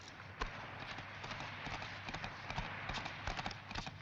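Hooves clop on hard ground in an irregular patter, several horses moving together at a moderate distance, fairly quiet.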